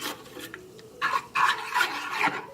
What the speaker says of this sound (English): And you just want to stir vigorously.